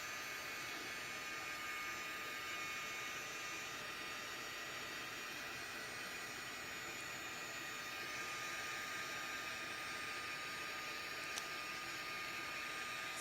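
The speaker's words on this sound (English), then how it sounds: "It takes a second for the heat gun to heat up" A heat gun blows steadily on a textured card effect, giving a continuous loud rushing hiss of air that stays even for the whole stretch with no talk.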